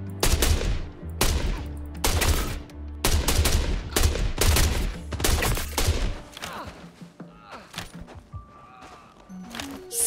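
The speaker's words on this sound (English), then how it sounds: "Slight reduction, maybe, in the rate of fire of the S-71 that I wasn't aware of" S-71 rifle fire in Star Citizen, loud, close bursts of rapid shots in a steady rhythm over about six seconds, then sparser, fainter shots and game sounds trailing off.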